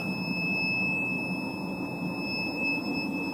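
A GAZon Next diesel dump truck's door-open warning: a steady high-pitched electronic tone drones on without a break, loud and piercing over a low engine-like rumble.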